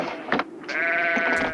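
Sheep bleat inside a truck in a film excerpt, several quick wavering cries in succession, close and clear, with no talk.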